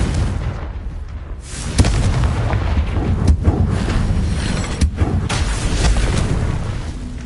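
Confringo spell explosions cast in the video game Hogwarts Legacy, heard as a sustained, loud rumbling blast with several sharper bursts punching through over about seven seconds.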